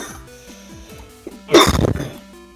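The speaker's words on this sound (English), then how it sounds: "that cough went into the mic" A single sharp cough lands close on the microphone, a loud brief burst over quiet electronic game music during a Mega Man Battle Network 2 session.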